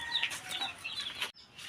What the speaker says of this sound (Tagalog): Abay, ari palang sisiw.